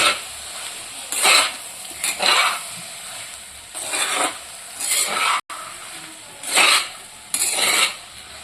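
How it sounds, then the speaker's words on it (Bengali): Boiled yellow peas being stirred into spice paste in a pan for ghugni, heard as repeated rasping scrapes in bursts of a second or so, close and fairly loud over a steady low sizzle. "তারপর হালকা নাড়াচাড়া করব।"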